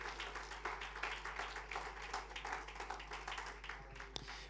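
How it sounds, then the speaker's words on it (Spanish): Church congregation clapping in praise during a Spanish-language worship service, steady dense applause from many hands over a low constant hum, ending with a sharp single clap. "Ese aplauso de alabanza para el Señor."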